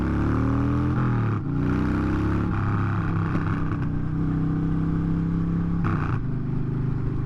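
A car's exhaust recorded up close by a microphone mounted at the tailpipe while driving, a loud, steady droning rumble with slight shifts in pitch as the engine speed changes.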